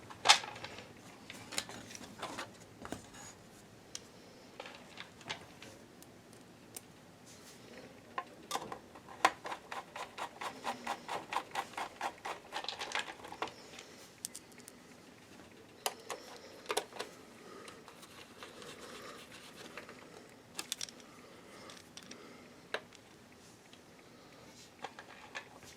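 Screws being removed from the top casing of a Dell 5100MP DLP projector, a quiet run of small ticking and clicking with a faster rattling burst partway through, low level and without talk.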